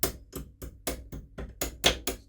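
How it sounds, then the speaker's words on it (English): A hammer taps a split pin around in a workshop with eight quick, sharp, evenly spaced knocks, close and fairly quiet. "You just use the hammer."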